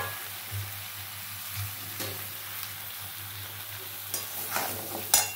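Kochur loti (taro stolons) fry in oil left over from frying prawns, a soft steady sizzle with occasional stirring scrapes and spoon taps growing busier toward the end, no talking.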